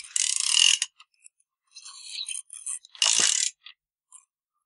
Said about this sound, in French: Donc on peut faire tourner l'embiellage.